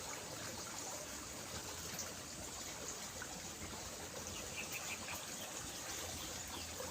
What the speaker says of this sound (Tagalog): agos ng tubig ayan Yan o, oh, bula o.